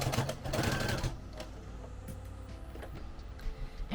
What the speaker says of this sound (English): we're just gonna sew on the edge right here, making sure we catch all 3